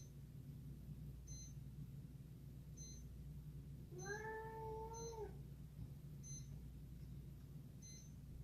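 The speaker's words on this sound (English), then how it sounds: "Oh, cat." Indoors during a blood pressure check, a cat lets out a single drawn-out meow, faint and somewhat distant, over a steady low hum and soft repeating electronic beeps from the monitor; no one speaks.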